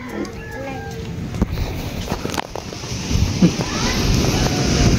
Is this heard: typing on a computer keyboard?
no